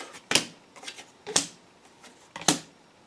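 Tarot cards laid out one by one during a reading, three crisp close card slaps at roughly one-second intervals with light rustling between them, no talking.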